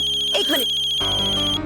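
A mobile phone ringtone for an incoming call rings with a steady, repeating electronic melody, loud and close, while someone briefly speaks over it.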